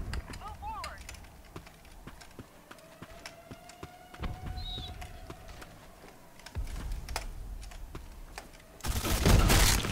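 Suppressed gunfire in the shooter game Black Squad, a series of sharp muffled clicks and pops spaced irregularly, with a loud burst near the end, under a voice talking.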